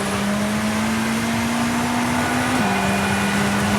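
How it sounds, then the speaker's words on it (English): A rally car engine in V-Rally 4 drones at high, steady revs with a slight dip in pitch near the end, loud and continuous. "You can hear the engine there just wanting to rev a bit more."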